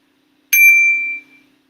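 A meditation bell gives one bright, ringing strike that sustains briefly and then fades out quickly, close and clear against near silence.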